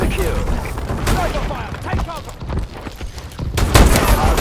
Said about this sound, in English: Sniper fire! Take cover!